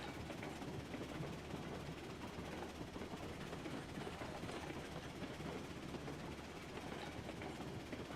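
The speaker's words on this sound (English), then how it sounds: "I'm hoping the train stays on the track through here" A train rolls steadily along the track in the railroad game Railroads Online, with a continuous low rumble and faint clickety-clack of wheels on rails, sustained and even throughout.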